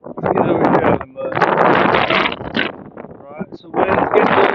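Wind blows outdoors at a park while dogs play, buffeting the microphone with loud, rough rumbling gusts that rise and fall over several seconds. Voices seem to be mixed in with the wind.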